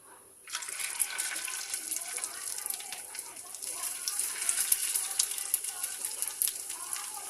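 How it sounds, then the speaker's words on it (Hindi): Rawas fish pieces coated in cornflour go into hot oil in a pan. A bright, steady crackling sizzle starts about half a second in and keeps hissing evenly throughout. "अब हम एक एक करके ये जो मच्छी के पीस है इसमें डाल देंगे।"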